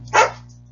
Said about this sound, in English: sorry, my dogs are being a real pain right now